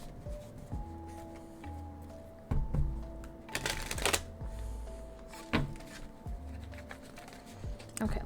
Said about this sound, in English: Let me start doing the shuffling for your tarot